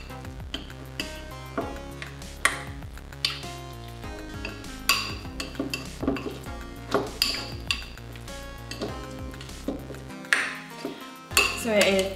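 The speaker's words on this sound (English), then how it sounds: "And then just mix everything together." A spoon clinks and scrapes around a bowl while a vegetarian breakfast mixture sweetened with a few drops of stevia is stirred, giving irregular metallic taps and rattles that are fairly loud and close.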